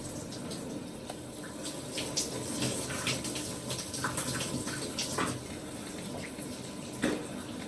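Shower water runs steadily in a home bathroom, a continuous hiss and patter of spray with small splashy fluctuations, moderately close and without any talking.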